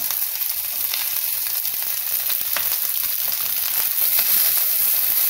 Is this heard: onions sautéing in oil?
yes